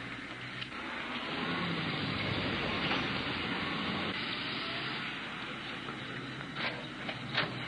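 A newspaper printing press runs with a loud continuous mechanical rumble and clatter that holds steady, with a few sharp clicks near the end and no talking.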